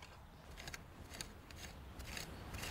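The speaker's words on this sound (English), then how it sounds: "Just use a rake." A garden rake loosening soil to patch an old lawn, quiet repeated scraping and rasping strokes in an uneven rhythm, faint and close.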